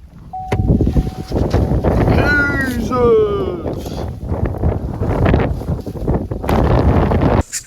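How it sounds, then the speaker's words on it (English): Strong wind gusts across an open South Dakota cornfield during a goose hunt, making a loud, steady roar and microphone buffeting through the whole stretch. A brief tonal call cuts in partway through, and voices can be heard. "the wind is ripping right now. It's probably gusts of 20-25 right now."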